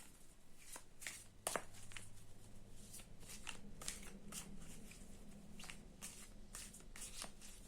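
Soft, repeated papery riffling of tarot cards being shuffled, several quick bursts in a steady rhythm, close and quiet with no talking.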